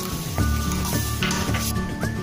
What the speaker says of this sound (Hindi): अब हम इसमें 1 कप दूध डालेंगे